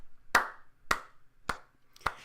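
Four single hand claps, slow and evenly spaced, sharp and close in an otherwise quiet space, with nothing else heard between them.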